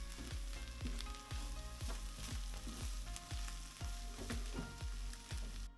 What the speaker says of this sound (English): put the onion on and fry it until golden brown